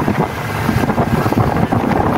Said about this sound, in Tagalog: Yung lakas ng hangin guys.